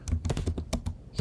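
Rapid keystrokes on a computer keyboard while typing code, a quick irregular run of close, crisp clicks with no voices.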